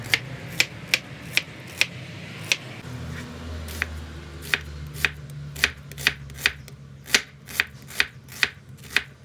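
A knife finely chops vegetables on a cutting board in a home kitchen, producing sharp, distinct taps about twice a second that speed up slightly, close and clear over a faint low background hum.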